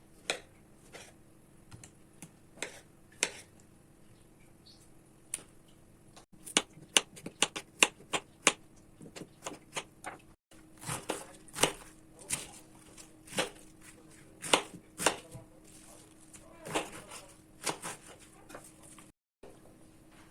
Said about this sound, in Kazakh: Бәрін турап дайындап аламыз осылай.